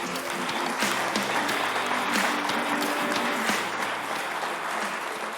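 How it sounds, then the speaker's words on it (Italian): A television studio audience in a sports programme claps for the boys, with continuous, moderately loud applause and faint tonal hum underneath, no voices on top. "Facciamo l'applauso ai ragazzi."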